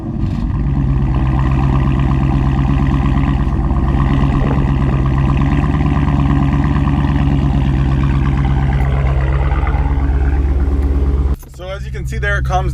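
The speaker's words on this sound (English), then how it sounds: "let me show you what a warm start sounds like" Fully warmed car engine running loud and steady after a warm start, a deep droning idle that carries on with little change until it cuts off abruptly near the end.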